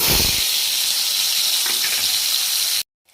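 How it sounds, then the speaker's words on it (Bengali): Salted, turmeric-coated eggplant slices fry in hot oil in a wok, giving a loud, steady broadband sizzle with no voices before it cuts off abruptly near the end. "কড়াইতে তেল গরম হয়ে গেছে, বেগুন কটাকে হালকা হালকা করে ভেজে দেবো"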